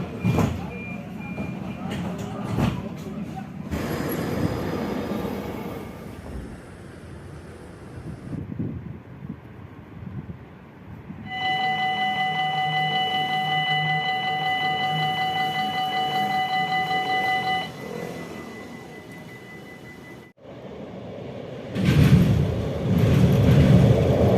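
A Line 4 tram rumbles along near Meulestede with a steady electrical whine and a sustained beeping tone mid-ride, while people talk over the rolling noise.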